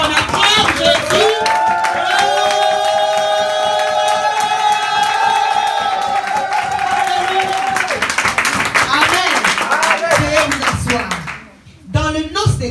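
A church congregation at a Sunday service claps and acclaims together: dense continuous applause with loud cheering, shouted praise and sustained vocal cries, all filling the room before dipping briefly and returning near the end.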